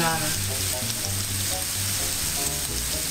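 Steak sizzles and fries in a pan, a continuous crackling hiss that stays steady and close for the whole stretch with no voices.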